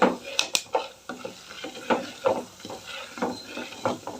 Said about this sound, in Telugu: పల్లీలు అయితే చిప్పట్లాడుతున్నాయి కానీ పచ్చెనగపప్పు చిప్పట్లాడవు